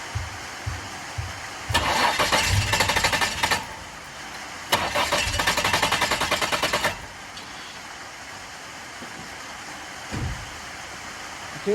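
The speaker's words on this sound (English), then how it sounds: "I'm gonna crank it a little bit more to make sure there's as low pressure as possible in the rail." Isuzu engine cranking over on the starter to bleed fuel rail pressure, two rhythmic cranking bursts of a few seconds each, close and loud with quiet gaps between.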